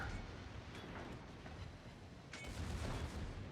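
Secondary guns on the battleship Brandenburg fire in a naval warfare game, a quiet, muffled patter of rapid shots over a steady rumble, growing slightly louder toward the end.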